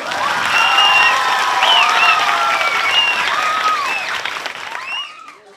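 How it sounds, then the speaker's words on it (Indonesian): An audience claps and cheers loudly with children's voices shouting over the applause, a dense sustained burst that fades away near the end. "Ya, mana tepuk tangan buat Ketut?"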